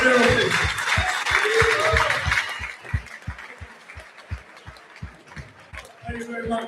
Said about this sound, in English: give a round of applause for such a great career as Steve O'Meara.